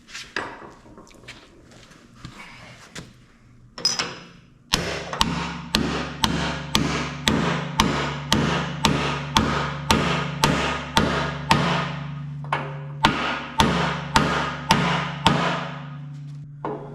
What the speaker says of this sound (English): a couple hundred hammer swings later